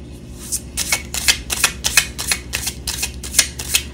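Tarot cards being shuffled for a reading, with repeated crisp riffling bursts in a steady rhythm, close and fairly loud, no voices over them.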